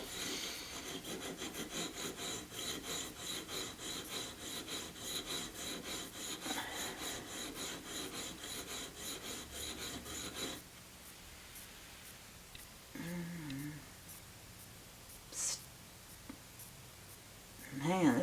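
Shear blade being sharpened on a 200 grit stone, rhythmic back-and-forth scraping strokes close up for about ten seconds, then stopping as a voice talks quietly with a few faint handling noises.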